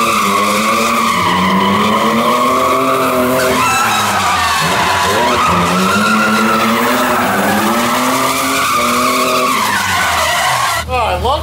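A BMW car with a Borla exhaust and an equal-length mid pipe is driven hard. Its loud engine note swells and falls repeatedly as it revs through the run, staying close and continuous, with hints of tire squeal.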